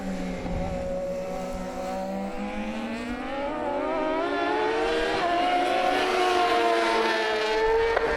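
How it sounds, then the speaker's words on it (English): A triple-cylinder British-made Triumph 675 race motorcycle screams under full power in a Pro Sport Bike race, its engine note climbing steadily through the gears, loud and close with no talk over it. "And Reedman under full power on that triple-cylinder British-made Triumph 675."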